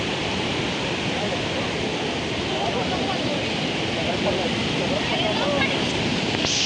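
Napne waterfall in the Konkan region of Maharashtra pours heavily in a steady, loud, broadband roar, with rushing water filling the whole scene without a break.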